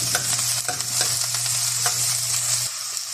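Chopped onions sizzle and crackle in a hot pan while being stirred, a steady bright frying hiss with occasional scraping clicks of the utensil, close and continuous with no voices.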